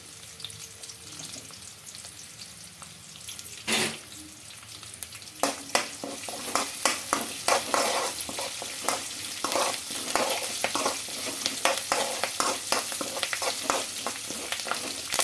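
Onions and curry leaves sizzling steadily in a hot pan, with repeated sharp scraping and clacking of a spatula stirring them, close and fairly loud.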